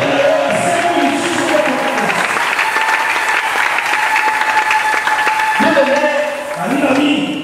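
A church congregation claps loudly and continuously, a dense wash of applause with voices calling out and a speaker's voice heard over it, close and sustained throughout.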